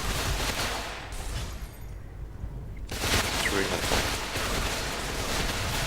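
Rapid AR-21SV assault rifle fire with a long barrel and extended magazine in the shooter video game GRO: dense, loud, continuous bursts with a short lull near the middle before the shooting resumes.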